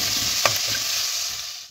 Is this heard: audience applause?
no